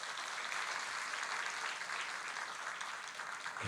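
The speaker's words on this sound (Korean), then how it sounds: "우리 같이 환영의 박수 하십시다." Church congregation claps in welcome for two newly registered members during a Sunday worship service, a steady wash of applause lasting several seconds at moderate level with no talking over it.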